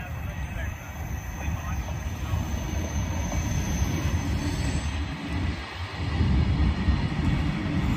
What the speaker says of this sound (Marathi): गाडी बीडच्या रेल्वे स्टेशन पर्यंत पोहोचलेली आहे आणि तिथून नंतर रिटर्न गाडी चाललेली आहे बघा नगरच्या दिशेने